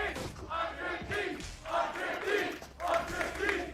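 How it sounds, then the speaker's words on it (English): An esports arena crowd at a Valorant match between EG and LOUD roars and chants in sustained, rising swells of massed voices, loud and continuous throughout. "You can hear the crowd trying to will the defensive side to a 5th"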